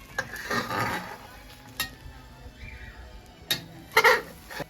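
Beaten eggs are gently folded into a soft scramble in a pan for a Cantonese tomato and egg stir fry, giving soft scraping strokes and a few sharper spatula taps over a faint sizzle.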